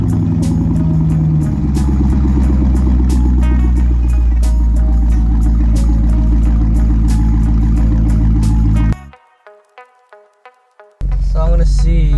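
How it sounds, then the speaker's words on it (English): Corvette cold start, the engine catching and settling into a loud, rumbling high idle for several seconds, then cutting off abruptly to near silence with faint clicks before the rumble returns. "So I'm going to go ahead and get a quick cold start and move the car around."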